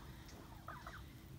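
Turkeys gobble in a short, faint burst partway through, sitting over a steady low background rumble with no talking.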